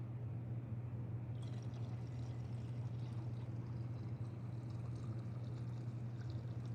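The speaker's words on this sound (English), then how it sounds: "I'm just gonna pour it right into the cup." Paint reducer DT895 is poured into a cup while a 1986 Silverado bed floor is refinished, a faint continuous liquid trickle over a steady low background hum, with no talking.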